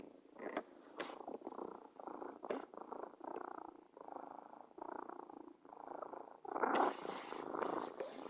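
A cat purrs steadily and close by in a continuous rumbling drone, with a brief louder scratchy rustle near the end as it shifts position.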